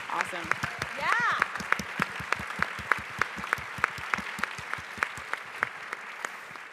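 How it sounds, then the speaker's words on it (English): Steady audience applause with sharp individual claps throughout, a brief cheer rising near the start. "Huge round of applause."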